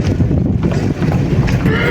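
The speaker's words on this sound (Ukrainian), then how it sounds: "такий тут табун хлопців е, є коней." A herd of horses grazing on pasture in Perehinske, whinnying amid a steady rumble of hooves and outdoor noise, fairly loud and continuous throughout.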